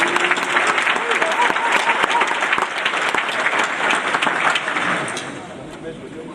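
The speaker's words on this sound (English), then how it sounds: "Let's give them another round of applause." Sustained applause from a large audience at an Omega Psi Phi fraternity 100th anniversary gathering, dense steady clapping that fades slightly toward the end, with faint voices mixed in.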